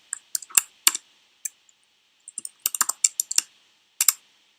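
Keystrokes on a computer keyboard while writing CSS code, tapped in irregular quick bursts of several sharp clicks with short pauses between, close and fairly clear with no voice.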